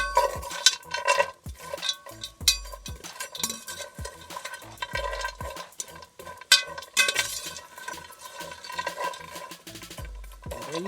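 Raw cocoa beans roasting in a pan are stirred with repeated scraping strokes, joined by occasional clinks of utensil on metal and a faint sizzle, all close and fairly quiet.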